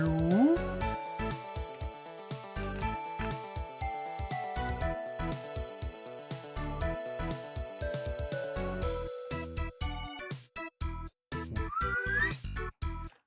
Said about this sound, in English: The slide whistle sound